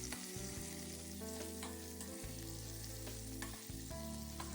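Steady sizzling of potatoes and green chillies frying in hot mustard oil, with occasional stirring clinks and a low background hum, no talking.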